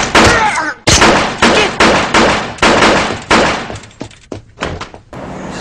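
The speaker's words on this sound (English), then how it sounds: "what I really like about this gun is that it's basically shooting rifle rounds from a pistol" A pistol firing rifle rounds lets off a rapid series of loud, sharp shots with ringing tails, about a dozen in close succession, in a staged fictional combat matchup.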